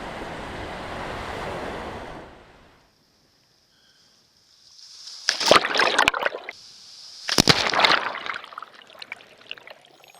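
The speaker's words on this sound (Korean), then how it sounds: "수면에서 파도가 부서지자 입자가 작은 모래들이 거칠게 움직인다" Waves breaking on the sandy beach at Haeundae: a rushing wash of surf fades to near silence, then two loud, crashing bursts of breaking water follow.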